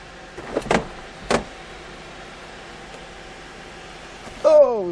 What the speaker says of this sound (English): Oh, sunroof works.